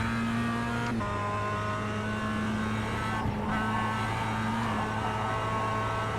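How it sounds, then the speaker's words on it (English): A production race car engine in the iRacing sim at Lime Rock Park holds a steady droning note with a couple of brief throttle blips that shift the pitch, loud and constant throughout, with no voices. "Just kind of blipping that throttle to keep the thing as wide as I can without running off the track"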